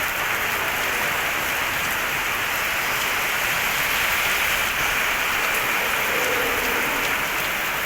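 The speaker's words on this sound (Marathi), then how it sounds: "आज पण आता दिवसभर पाऊस चालू आहे" Heavy monsoon rain pours down in Kerala, a dense, steady hiss of falling water that stays loud and unbroken throughout, with no voices.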